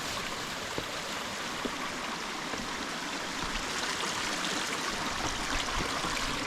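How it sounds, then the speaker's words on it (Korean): A small mountain stream on a hiking trail flows steadily, a continuous soft rush and trickle of water close by, with no voices. "작은 개울이 나왔어요"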